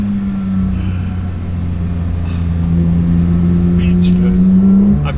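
A Porsche GT3 engine hums with a steady, loud drone from inside the car, the pitch climbing slightly as it picks up speed, with faint clicks above it.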